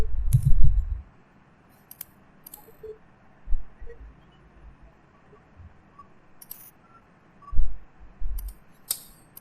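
Sharp, scattered clicks of a computer mouse sound as the pen tool is selected in Adobe Illustrator. A few quick single and double clicks land several seconds apart, with soft low thumps in a quiet room.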